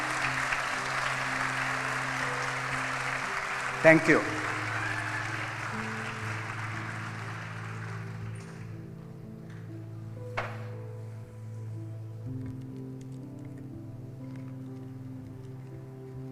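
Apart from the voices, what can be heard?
applause for the graduating class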